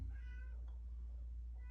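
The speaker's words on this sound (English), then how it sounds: "that's my cat meow" A pet cat gives a short meow, faint and a little distant, over a steady low hum of room noise.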